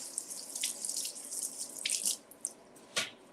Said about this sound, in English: So let me just rinse this off.